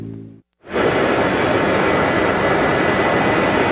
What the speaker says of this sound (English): the sound of jet engines and the jet dryers trying to dry a racetrack